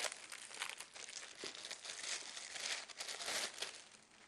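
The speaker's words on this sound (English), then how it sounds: "The new filter will come in a plastic bag." A plastic bag is pulled off a new water filter cartridge, crinkling and rustling continuously up close. There is no talking.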